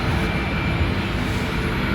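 An airplane passes overhead outdoors, heard as a loud, steady broadband jet roar with no break and no speech.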